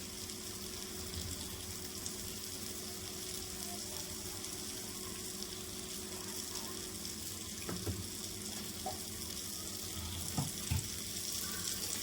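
Washed rice frying in a pan on a home stove gives a soft, steady sizzle that runs for the whole stretch, with an occasional faint stir or clink and no voices.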